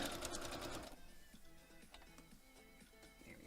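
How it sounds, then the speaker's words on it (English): A sewing machine stitches a paper-pieced quilt block, its needle running in a quick, loud rhythmic patter for about a second before dropping to faint ticking and soft mechanical clicks. "now I'm going to sew right along that solid line."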